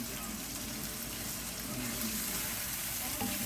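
Ingredients for a Guyanese red pea cook-up with chicken, chicken feet and dried shrimp fry in a pot, giving a steady sizzling hiss with soft stirring clatter, close up and alone.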